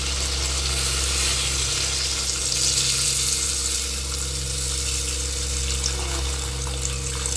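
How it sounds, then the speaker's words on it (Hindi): Water poured into a hot pan of cooking chicken brings a loud, steady, close sizzle and hiss that runs the whole time, with no voices. "तो अभी मैं यहाँ पे पानी डालूंगी।"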